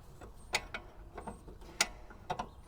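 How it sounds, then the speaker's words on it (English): Bolts are worked loose from an anti-roll bar drop link on a 2006 Audi A4 B7 1.8T S-Line, giving quiet, close metallic ratcheting clicks and taps in a sparse, irregular rhythm. "we repeat the same process around this side and remove the two bolts once again"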